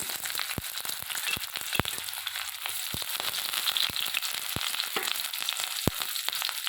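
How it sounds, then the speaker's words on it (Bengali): Chopped onions frying in hot oil, a bright crackling sizzle with sharp spatters and a few knocks of a spoon against the pan, close and steady with no speech. "এখানে আমি পেঁয়াজ কুচিগুলো তেলের মধ্যে দিয়ে দিলাম"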